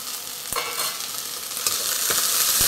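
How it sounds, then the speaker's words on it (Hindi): Green peas being fried with masala, onion and tomato in a pan: a continuous close, bright sizzle with a few sharp clinks and scrapes of a spoon, no talking. "मैंने ये हरी मटर ली है, तो इसको भी हम इसमें डाल देंगे"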